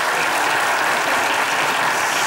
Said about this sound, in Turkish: Alkışlar çiftimize gelsin